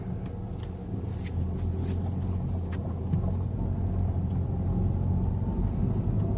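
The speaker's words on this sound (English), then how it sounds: "So we're gonna do a drive now and see how she does." A 2013 Dodge Dart pulling away, a steady low engine drone and road rumble heard from inside, holding even and fairly loud throughout with no talk.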